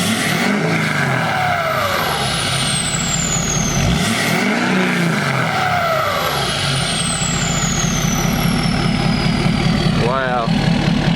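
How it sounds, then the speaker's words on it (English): A lifted Ford F250 Platinum pickup engine revs loudly nearby, its pitch sweeping up and down through a couple of rising and falling revs over a steady rumble. "All right, go ahead and give us a couple revs."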